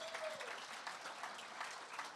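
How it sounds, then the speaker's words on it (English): Gala audience applauding after a fundraising milestone, a dense, even patter of many hands clapping at a moderate distance, sustained for a couple of seconds. "Give yourselves a round of applause right now for that."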